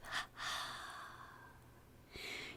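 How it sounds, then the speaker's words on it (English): Soft breathing during a guided meditation, a quick inhale followed by a long, airy two-part exhale through the nose and mouth, quiet and close, ending in another breath. "Hold it with tension, and exhale with a double breath."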